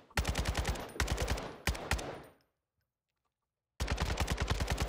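Close, loud automatic gunfire in a video game: rapid bursts of evenly spaced rounds, then a sudden gap of silence before another fast burst starts, with no talking.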